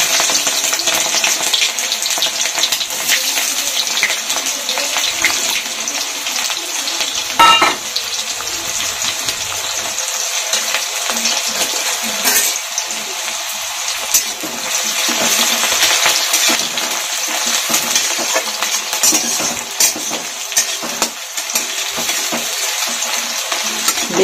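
Chopped onion, a large one, hits cumin seeds tempered in hot oil and frying steadily, a continuous loud sizzle with occasional stirring scrapes and clinks, close and without speech.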